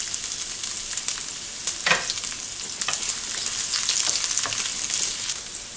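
Onion sizzles in hot oil with popping mustard seeds for a Kerala-style drumstick stir fry, a steady close hiss with occasional scraping stirs and small crackles.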